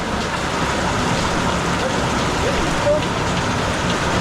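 Dense, constant downpour during a storm roaring evenly throughout, loud and close, with no clear voices.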